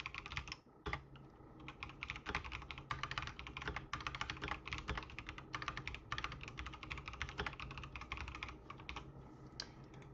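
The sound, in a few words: typing on a computer keyboard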